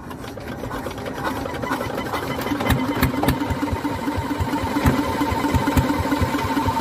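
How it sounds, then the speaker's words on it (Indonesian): Air compressor engine on a Bugis fishing boat at Kamal Muara, Jakarta, idling at low speed with a steady, close, rattling mechanical chug. "Mesin kompresor akan dinyalakan."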